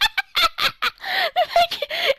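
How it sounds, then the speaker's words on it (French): A Minecraft chicken struck with an axe gives a run of short, high clucking squawks in quick bursts, close and fairly loud, with no talking. "le mec il a tapé une poule avec une hache quoi"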